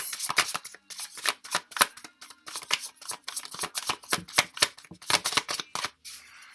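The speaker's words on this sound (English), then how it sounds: "I'm going to go ahead and shuffle these cards up" Rapid, repeated riffling of a deck of tarot cards being shuffled, crisp papery bursts in quick succession, close up and with no voices.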